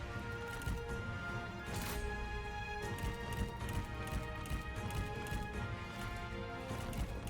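Hooves clip-clop at a steady galloping rhythm amid a dense, continuous wash of battle noise and music in Total War, with a Liu Bei campaign horse running far behind.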